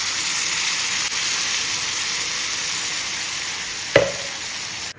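Onion browns in a pan with green chili, coriander and kalonji, giving a loud, steady frying sizzle throughout, marked by one sharp stirring knock near the end before it cuts off.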